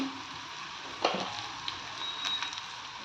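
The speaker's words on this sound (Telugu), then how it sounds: "బెండకాయ వేసుకున్న తర్వాత 2 నిమిషాలు ఫ్రై చేశాను." Sliced okra frying in a pan gives off a soft, steady sizzle, with a few brief clinks and stirring scrapes over the hiss and no talking.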